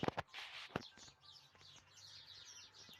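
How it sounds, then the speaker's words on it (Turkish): Birds chirp outdoors in quick, high tweets, a few sharper calls early on, then a steady faint twittering chorus with some soft low rumble beneath. "Dışarıda çok kuş sesi var."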